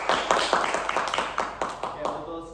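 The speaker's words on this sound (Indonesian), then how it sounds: "Tepuk tangan untuk Andika." A classroom claps for a student in a teaching practice session, a loose run of distinct hand claps at an uneven rhythm, moderately close, with voices underneath.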